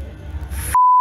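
A single steady electronic censor beep cuts in abruptly after a moment of low background noise and holds to the end.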